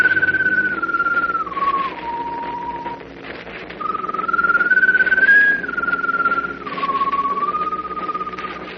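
A mournful, wavering whistle as a strange glowing bird's call in a radio drama sound effect, gliding slowly up and down in two long phrases over a low steady hum.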